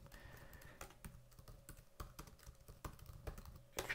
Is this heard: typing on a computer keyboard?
yes